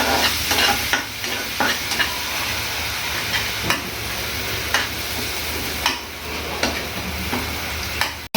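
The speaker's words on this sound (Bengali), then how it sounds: "ভাজা ভাজা হোক" Spice paste for a Pabda fish curry sizzles steadily in a pan while being stirred, with regular scraping strokes cutting through the continuous frying hiss; close and fairly loud, with no voices.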